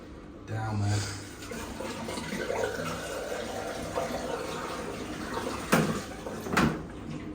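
Leftover water is poured from buckets into an unflushed pub urinal, giving a sloshing, gurgling wash with a couple of sharp splashes near the end.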